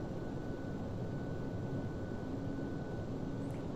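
Steady jet engine drone of a Boeing 737-800 in flight in Flight Simulator X, a continuous even roar with airflow hiss during an ILS approach, turning left toward the localizer, with no talk over it.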